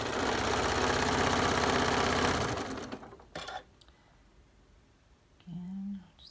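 A sewing machine stitching a fleece rag quilt runs in a loud, fast, steady whir for about two and a half seconds, then stops, leaving quiet handling noises and a short faint sound near the end.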